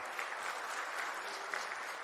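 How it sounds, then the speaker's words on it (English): Steady, faint applause from an audience at the closing ceremony of the Indonesia International Open 2024 billiards tournament, an even wash of clapping heard from a distance with no talk over it. "Give applause for Mr. Hari."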